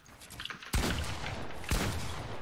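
Gunfire in a video game arena match, two sharp loud blasts roughly a second apart, each trailing into a noisy decay, with quieter game sounds before the first shot and no talking.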